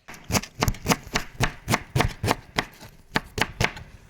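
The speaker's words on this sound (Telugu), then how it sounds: "మటన్ కీమకి చిన్నగా కట్ చేసుకోవాలి." A knife chops ingredients for mutton keema on a board in quick, close, crisp strikes, about a dozen sharp hits in an uneven rhythm with brief pauses, no talking.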